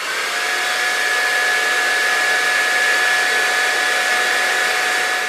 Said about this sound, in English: Now we're going to use the hair dryer and dry this for about 2 to 3 minutes.